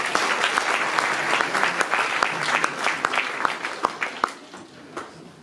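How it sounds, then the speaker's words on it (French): Applause from an audience at a presentation of the 19th Nuits-Saint-Georges half marathon, dense and steady clapping with sharper individual claps standing out, sustained for several seconds before thinning slightly at the end. "on peut vous applaudir, messieurs, mesdames"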